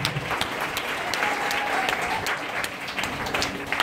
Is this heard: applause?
yes